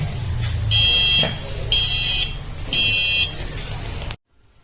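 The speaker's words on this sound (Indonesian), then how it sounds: "maka buzzer secara otomatis akan menyala secara 3 kali" An electronic buzzer on an RFID server-rack security system sounds three times for an unregistered tag, giving three loud steady beeps of about half a second each, evenly spaced over a constant low hum, then silence.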